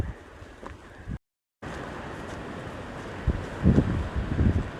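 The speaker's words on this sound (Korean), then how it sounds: "아, 무섭게도 바람 부네." Strong gusting wind sweeps over a mountain ridge on Duryunsan in Haenam, a steady broadband roar close on the microphone that cuts out for a moment, then returns and surges louder in buffeting gusts.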